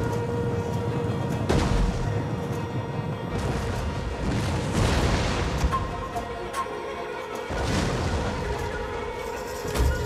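Booming artillery fire rolls across a Total War: Attila battle, with several heavy blasts and rumbling impacts scattered over a noisy backdrop of clashing combat sounds.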